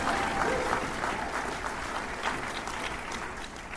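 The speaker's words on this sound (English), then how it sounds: "Yeah, you can clap for that." A room of people at a Narcotics Anonymous speaker meeting claps in a sustained, dense wave of applause, moderately loud and slightly distant, holding steady for several seconds.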